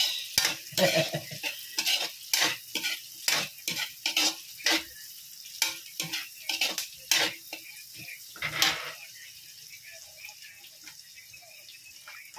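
A spatula stirs pancit in a hot pan with shrimp, mussels, corn and vegetables, making a quick series of scraping clatters over a steady frying sizzle, the strokes slowing and thinning out toward the end.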